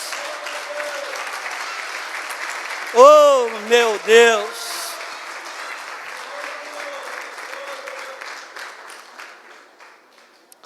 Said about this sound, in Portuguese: Você pode aplaudir o Senhor, irmão.